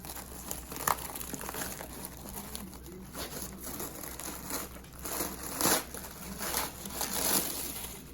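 A papery hornet nest is torn open by hand in soft, irregular crinkling and crackling bursts, fairly faint and close, with a few louder tearing rustles near the end.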